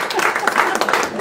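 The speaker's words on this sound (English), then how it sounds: "Let's give him a nice round of applause." An audience applauds briefly, a dense patter of clapping from a crowd, fairly close and steady for about a second.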